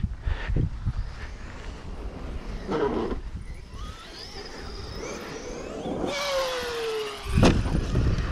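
A jet ski engine revs up in short bursts, with rising and falling whining pitch sweeps over a rough engine rumble and splashy background noise.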